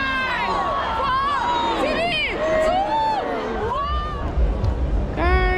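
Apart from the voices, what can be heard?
crowd at Dubai New Year celebration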